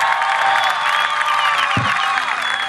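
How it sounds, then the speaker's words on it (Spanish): A large crowd at a Venezuelan political rally celebrating a 2017 municipal election victory applauds and cheers continuously, a loud, dense wash of clapping and voices with whistle-like tones running through it. "Vamos a dar un aplauso a Diosdado Cabello Rondón."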